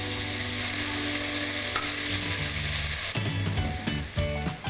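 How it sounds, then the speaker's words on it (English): Onions frying with curry leaves in a pan for a pilchard dish, a loud steady sizzle that close stirring breaks up partway through. "the onions cook through, golden brown and rich with flavor"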